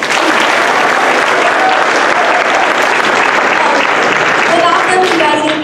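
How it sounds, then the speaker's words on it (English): Sustained audience applause at a community theatre production of Coraline, dense and steady throughout with a few faint voices mixed into the clapping. "round of applause for all the parents who have been nothing but supportive of all of our players"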